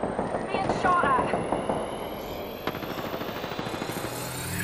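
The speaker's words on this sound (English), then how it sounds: "Being shot at." Bursts of automatic gunfire in the battle royale game Apex Legends, rapid rattling shots with a steady pulsing rhythm, loud at first and then continuing more evenly under game effects.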